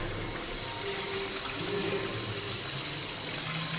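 Water runs steadily from a tap in a dorm, a continuous hissing wash that holds at an even level for the whole stretch, with no voices over it.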